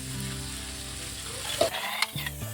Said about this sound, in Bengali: সয়াবিনগুলোও দিয়ে দিচ্ছি এখন,